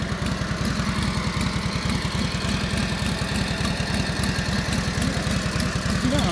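A 1942 Harley-Davidson WLA engine runs steadily at idle, a rapid, even low thumping with a mechanical clatter over it, close and continuous with no voices.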